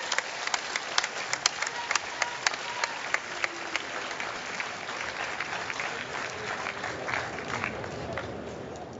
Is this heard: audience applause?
yes